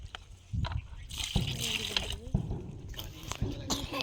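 Cow urine and water being stirred together by hand in a container to make panchagavya, giving close sloshing and splashing bursts in a quiet setting.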